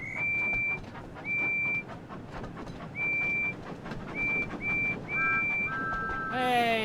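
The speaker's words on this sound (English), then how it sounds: "Thomas whistled back." Thomas the Tank Engine sounds his whistle in a Thomas and Friends video game: a series of short, clear, high whistle blasts in an uneven rhythm, then a falling two-tone whistle at the end over background game sound.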